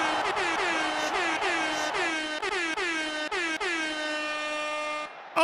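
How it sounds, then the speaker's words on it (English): A handheld air horn blares close and loud in a series of quick blasts, then holds one long sustained blast before cutting off. "I always forget I have that air horn"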